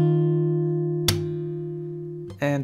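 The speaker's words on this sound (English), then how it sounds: "Just slap without strings, we just hit 6th string and it sounds like this." A fingerstyle acoustic guitar rings a sustained chord, then a single sharp percussive slap strikes the sixth string, followed by a second quick hit and a fresh chord near the end.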